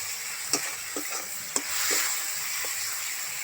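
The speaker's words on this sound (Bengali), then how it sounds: "এর মধ্যে স্বাদ মতো লবণ দিয়ে দিলাম, দিয়ে টমেটোকে ভালো করে সিদ্ধ করে নেব" Tomato with salt frying in spices in a pan, a bright steady sizzle with a few sharp scrapes as it is stirred, close and without voices.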